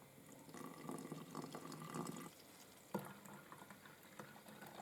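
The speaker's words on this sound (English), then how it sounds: "pour that in with the salt" Liquid pours steadily into a mixing cup containing salt for a couple of seconds, stops, then a short clunk and a second gentle trickle, quiet and close.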